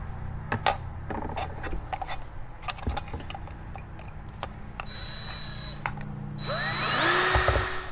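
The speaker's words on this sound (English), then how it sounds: "we want to run a series of holes around the edge of the can" A series of holes is made around the edge of a metal can for a penny can stove, with sharp metallic taps and clicks followed by a louder grinding whir near the end.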